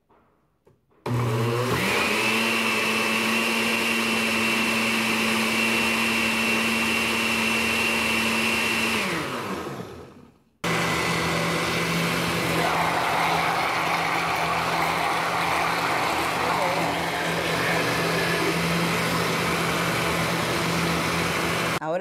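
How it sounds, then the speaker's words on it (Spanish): A blender whirs steadily on condensed milk, dulce de leche, evaporated milk and coffee for a quick ice cream cake, running loud and close, winding down near ten seconds, then restarting at full speed until the end. "poner a batir en nuestra licuadora todos nuestros ingredientes"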